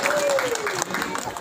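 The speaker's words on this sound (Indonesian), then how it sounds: "tepuk tangan dong buat ular ini" Crowd claps for Garaga the snake at a village circumcision celebration, a short burst of applause with voices and a whistle-like tone over it.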